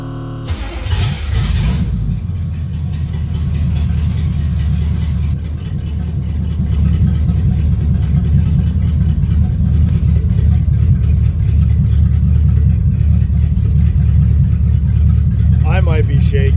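A Chevrolet C10 truck engine cranks and catches at the start, then settles into a steady, loud low-pitched idle that runs for the rest of the clip, close by, with a person talking over it.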